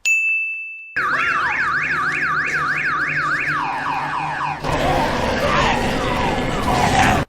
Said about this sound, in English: this extremely loud car alarm has been going for some time